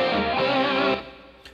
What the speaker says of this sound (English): Now let's do the same with the plate reverb